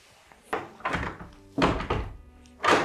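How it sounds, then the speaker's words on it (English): Locked wooden door in an abandoned 1700s castle being tried, giving several dull, heavy thunks close by, spaced irregularly with quiet pauses between the rattling knocks. "This one seems to be locked up, unfortunately."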